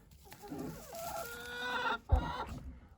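A hen in a henhouse nesting area clucks and lets out a drawn-out squawking call nearby, followed by a short sharp thump and more clucking.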